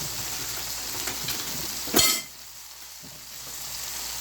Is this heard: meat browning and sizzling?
yes